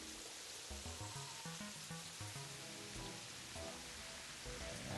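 Steady rain in Terraria hisses as a dense, even wash of falling drops, continuous and moderately loud with no talk over it.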